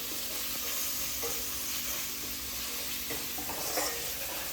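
Vegetables stir-fry in a pan for veg fried rice, producing a continuous soft sizzle with occasional light scraping and stirring sounds, fairly faint and without talk.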